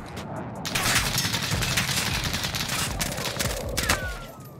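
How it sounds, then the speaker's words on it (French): Rapid gunfire from a French-language online shooter video game, dense bursts of shots running continuously and loudly throughout with no talk. "ça me tire encore à droite."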